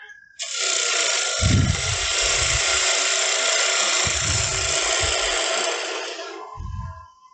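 A woodturning gouge cuts into wood spinning on a lathe, making a loud, continuous rough hiss that lasts about six seconds, with low thudding pulses from the workpiece coming through in bursts.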